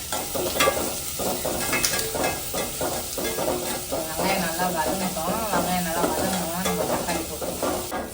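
Onions sautéing in a pan for a home-cooked meal, a dense continuous sizzle with frequent scraping and stirring strokes close by, steady and fairly loud throughout.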